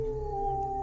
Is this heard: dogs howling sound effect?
yes